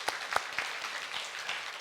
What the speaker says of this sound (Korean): 오늘 영수 왔는데 우리 박수 한번 쳐주겠습니다.